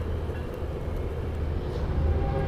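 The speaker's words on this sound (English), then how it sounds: "That's a train." Train passing nearby, a continuous low rumble with a heavy, steady roar that swells slightly toward the end, with no voices.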